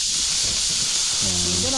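Steam hissing from an outdoor cooking fire being doused with water: a loud, steady hiss runs throughout, with a person's voice breaking in briefly near the end.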